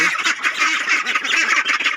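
A flock of ducks quacking continuously, loud and close, many overlapping nasal calls with no pauses.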